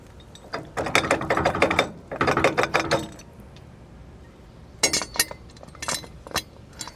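A Roadmaster Tow Defender protective screen mount slides into a trailer hitch receiver and is pinned, with close bursts of scraping, rattling metal, a pause, then sharper clinks and clunks.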